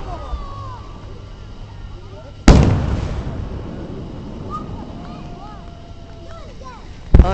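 Fireworks at a public show at Magic Springs in Hot Springs, Arkansas, with one loud boom followed by crackling and whistling trails, then a second sharp bang at the end, heard outdoors with wind noise.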